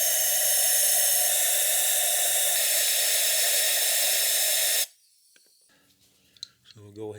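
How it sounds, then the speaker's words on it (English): Compressed air blasts steadily into the spark plug wells of a 2011 Cadillac SRX 3.0 V6 engine, a loud continuous hiss for about five seconds that cuts off abruptly, followed by faint clicks and handling noises. "we need to blow these out with some compressed air"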